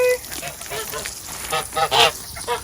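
Ducks honk and quack in a series of loud, nasal calls close by, with several calls bunching together and brief talk mixed in.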